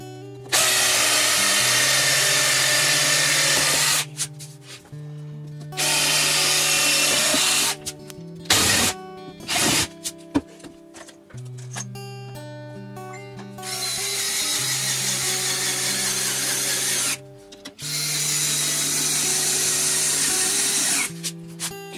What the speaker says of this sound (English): Now I'm going to screw in this side